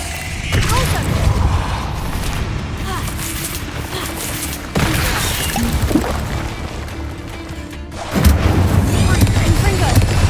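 Explosive spell blasts from Hogwarts Legacy on PS5, a dense run of loud booming bursts and crackling impacts, with a sharp fresh surge near the start, another midway and a heavier one near the end, while a voice calls out over the combat.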